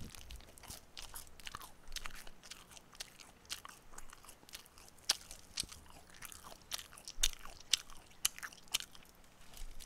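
Crisp, crunchy bites and chewing on the crust of a Pizza School pepperoni pizza, close to the mic, with a steady run of crackling crunches and no talk.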